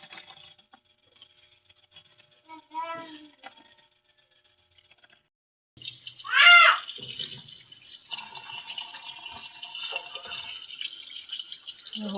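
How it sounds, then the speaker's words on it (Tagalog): Tap water runs and splashes over fish being washed in a kitchen sink, a faint rattle early on, then a steady nearby stream with clatter from about the midpoint to the end. "Hugasan ko na po itong isda."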